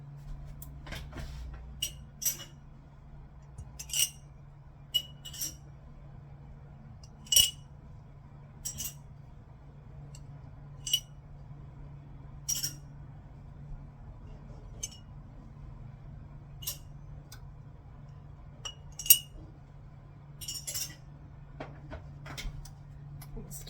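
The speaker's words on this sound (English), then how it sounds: "I'm going to start taking out the sterile jars from the oven." Sterile pint glass jars lifted one by one out of a home oven onto a towel, giving scattered sharp clinks and light knocks at irregular intervals over a low steady hum, with no talk.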